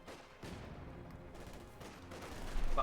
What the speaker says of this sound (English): Submachine gun wielding constantly moving ahead here with the PP-41s.